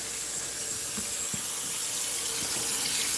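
Water runs steadily from a tap into a sink during perogie cooking, a constant hissing flow with a couple of faint knocks.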